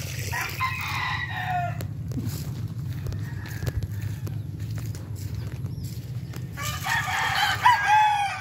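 Roosters crowing and hens clucking in an open-air chicken yard of young fowl, with intermittent crows and clucks rising over a steady low hum, nearby and moderately loud.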